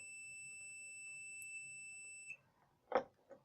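A digital multimeter on continuity test across a jumper wire emits a steady, high electronic beep that holds for over two seconds, then stops, followed by a couple of brief clunks.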